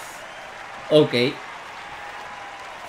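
A crowd at Roland Garros in the Top Spin 4 tennis video game applauds as a steady, even wash of clapping, with a brief spoken word from a player rising over it midway.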